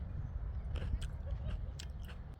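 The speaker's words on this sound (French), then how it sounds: "Je croque mes petites tomates." Small tomatoes are bitten and crunched close to the mouth, a few quiet crisp bites and chewing sounds over a low background hum, with no one talking.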